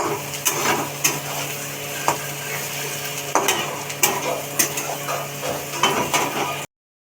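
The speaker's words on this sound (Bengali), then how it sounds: "এদিকে কড়াইতে তেলের মধ্যে শুকনো লঙ্কা ফোড়ন দিয়ে, সাদা জিরে ফোড়ন দিয়ে পেঁয়াজটাকে ভালো করে ভেজে নিচ্ছি।" Onion frying in oil in a kadai with dried red chilli and cumin seeds, a steady sizzle broken by repeated sharp scrapes and knocks of a spatula against the pan, close and without talk, ending abruptly.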